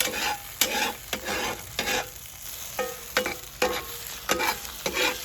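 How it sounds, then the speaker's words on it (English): Chorizo and eggs cook on a Solo Stove, with a steady close sizzle broken by repeated scraping strokes of a utensil stirring the pan, roughly once every half second. "you're going to want to cook this until the eggs are cooked and the cheese is melted."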